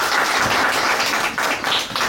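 A live audience applauds an artist with steady, dense clapping that fills the whole stretch evenly and at full strength.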